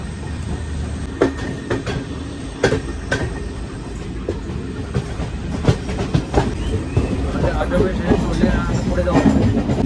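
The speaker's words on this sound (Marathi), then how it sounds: "गाडी निघालेली आहे" The Tutari Express pulls out of Adavali station during a rainy-season run, its wheels drumming over the rails in a steady clatter with sharp periodic clacks at joints, heard from inside the coach with voices faintly present.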